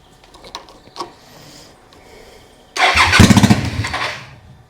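Suzuki VL250 motorcycle with little fuel in the tank, starter cranking loudly after a few quiet clicks, the engine churning and nearly catching for over a second before dying away.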